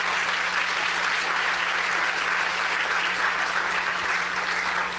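Sustained applause from an audience at a talk on Black history, a dense even wash of clapping that stays loud and steady for the whole stretch with no voices over it.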